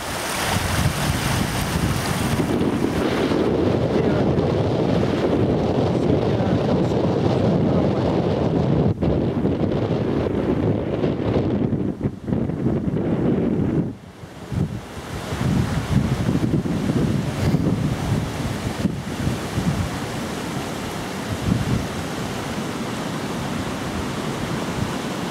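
Water rushes over Trout Stream Weir beneath a footbridge, a loud, broad, steady roar heavily buffeted by wind on the microphone, with a brief lull partway through before the rush returns.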